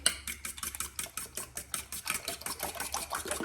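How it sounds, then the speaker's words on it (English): Eggs with milk being stirred or whisked in a bowl while making homemade macaroni and cheese, a quick steady run of clicking, scraping strokes close by, no talking. "to add milk to my eggs. And stir that up."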